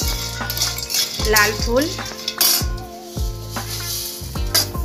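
Red chillies and cumin roasting in a small amount of oil for a homemade village-style thasaka masala, with steady frying sizzle, stirring scrapes and rattles of a spoon against the pan, and a brief voice speaking over it.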